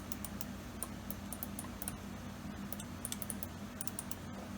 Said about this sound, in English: Let's get a first keyboard typing test.